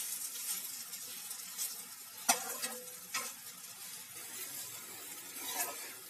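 Semolina cooking in milk is stirred in a pan, giving soft, faint scraping with one sharp clack of the spoon and a low, steady simmering hiss, and no talking.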